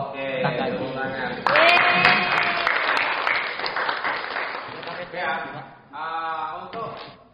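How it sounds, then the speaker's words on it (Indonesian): A class applauds during a teacher's accounting lesson, a short burst of clapping that rises sharply, with talking heard through and after the clapping. "tepuk tangan"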